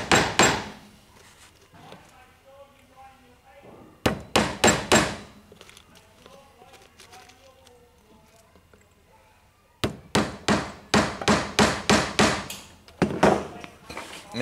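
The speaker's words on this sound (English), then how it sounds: "just tap in a 40 millimeter nail" A hammer taps 40 mm nails into the bearers of a model house in bursts of rapid, sharp, close strikes. Quieter pauses come between the bursts, with someone talking during them.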